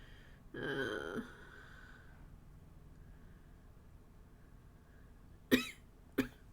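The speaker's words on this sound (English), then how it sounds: "here I am coughing again." A single harsh cough up close, then a short pause and two sharp cough bursts in quick succession near the end.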